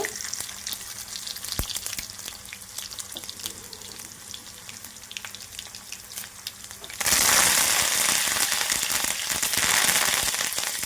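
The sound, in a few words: cumin, mustard seeds, chana dal and urad dal frying in oil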